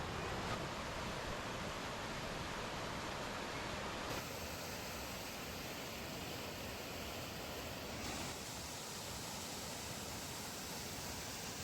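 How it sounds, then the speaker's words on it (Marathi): Broad, constant rush of flowing water, steady and loud like a stream pouring beneath a bridge near Barvi Dam's reservoir, with no voices. "पुलाखालून जो पाण्याचा प्रवाह वाहून येतोय"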